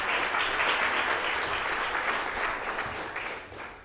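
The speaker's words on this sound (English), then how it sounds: "So I'd like you to give him a warm round of applause," Warm applause from a lecture audience welcoming a guest speaker, a dense steady crowd clapping that stays loud and then thins slightly toward the end.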